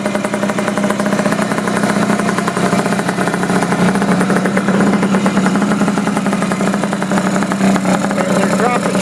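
A Honda Elite 50 scooter engine runs with a new exhaust pipe fitted, a loud, steady, rapid buzzing putter sustained close up throughout.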